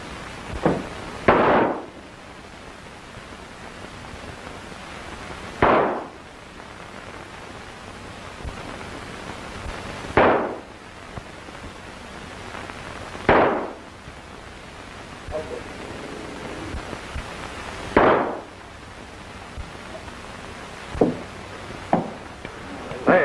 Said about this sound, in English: that's some shooting, partner